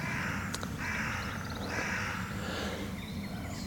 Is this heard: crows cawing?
yes